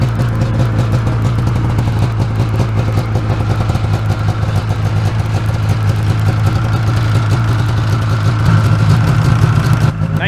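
A 1994 Yamaha Vmax 600 snowmobile engine running fresh out of summer storage, a loud, steady two-stroke idle with a rattling, clattery tone that holds throughout and rises slightly near the end.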